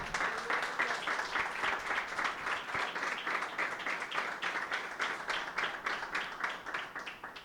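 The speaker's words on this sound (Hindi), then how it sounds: "अगर आप बरकत पा रहे हैं तो खुदा में यीशु मसीह के लिए तालियां बजाएं।" During a Sunday church service, the congregation claps in a steady, fairly fast rhythm, a moderate and even stream of handclaps lasting several seconds without speech.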